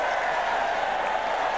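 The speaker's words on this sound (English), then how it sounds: "Got the wave going here, which could go on for 10 minutes." Large tennis crowd at Roland Garros during the 2006 final doing the wave, a dense, steady roar of cheering and applause filling the whole stretch with no pause.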